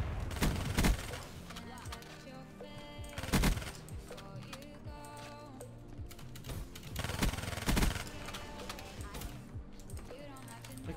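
Rapid gunfire from a teammate in the shooter game Call of Duty: Black Ops 3 bursts out in several loud volleys amid busy game sounds and effects, with a player talking over it.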